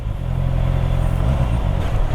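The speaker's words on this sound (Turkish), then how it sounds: "Çok tatlı bir motor sesi var." A Honda CBR 650R motorcycle engine drones steadily while riding slowly through traffic, a loud, close, low hum with a slight pitch shift midway and no talking.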